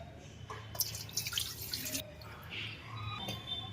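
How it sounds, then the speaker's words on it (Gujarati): Water drains from a pot of soaked lentils while it is tipped out, giving a soft trickle with a few splashy pours and drips, quiet and close. "આ પાણી ફેંકી દેવાનું."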